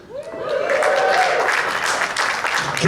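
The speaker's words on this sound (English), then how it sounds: "Gets applause every time." Applause from a comedy club audience swells quickly and holds steady, a close, full wash of clapping with a faint voice briefly heard at the start.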